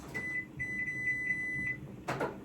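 A kitchen timer in a home kitchen sounds a run of short, steady electronic beeps close by, followed by a brief clatter near the end.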